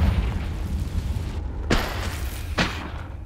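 Two loud, sharp blasts from a Confringo fire spell in the Hogwarts Legacy video game, about a second apart, over a steady low rumble of game background sound.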